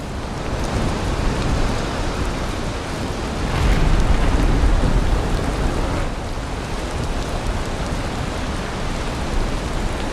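Rain falling in the video game Valheim, a continuous hiss of rainfall with a brief swell in intensity midway, steady and unbroken throughout with no speech.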